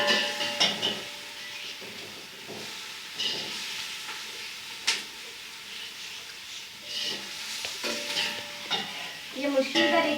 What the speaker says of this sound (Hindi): गाजर मैंने डाल दी हैं, इसे मैं फ्राई करूंगी।